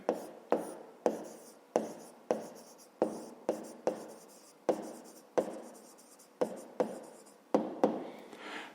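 Chalk or marker strokes on a board while working through a fifth-grade geometry exercise on rectangles, a steady run of short scratchy strokes with sharp starts and fading tails, close and clear with no talking.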